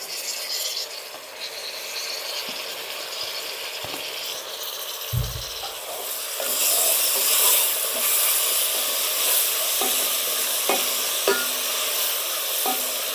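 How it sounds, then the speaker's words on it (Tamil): Mint and coriander leaves sauté in a pan during chicken biryani preparation, a continuous close hiss and sizzle with occasional soft scraping and stirring strokes, growing slightly louder partway through, with no talking. "நல்லா கலர் மாறுற வரையும் இதை கொஞ்சம் வதக்கி விட்டுக்கலாம்."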